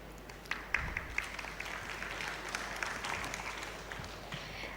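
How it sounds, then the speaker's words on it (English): Audience applause at a university robotics competition in Sri Lanka, a steady wash of clapping at moderate distance with a few sharper claps standing out, holding throughout. "Let's give him another round of applause"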